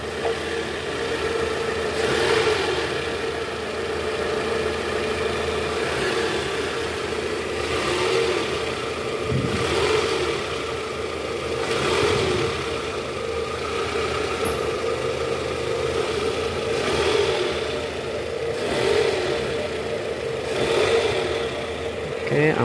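A 2002 Toyota Camry engine idles after an oil leak repair, running smooth and steady with a faint periodic rise and fall in its hum and no harsh knocking, heard close up.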